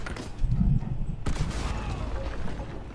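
Shotgun blasts go off in a Red Dead Redemption 2 gunfight against an armored enemy: a heavy boom, then a sharp second blast about a second later, over ongoing combat noise.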